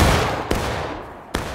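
A musket volley in the War of Rights video game, a loud rolling burst of fire fading off, followed by a couple of sharp single shots, close and prominent.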